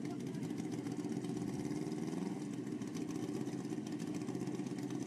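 Suzuki and Kawasaki drag-racing motorcycles idle side by side at pit side, a steady, mid-pitched engine rumble holding constant throughout with no revving.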